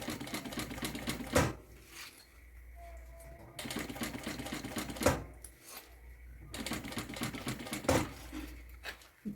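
A sewing machine stitches an X across a fabric pouch, running in three bursts of rapid mechanical chatter, each ending in a sharp clack and followed by a brief quieter pause. Close and moderately quiet, with no talking.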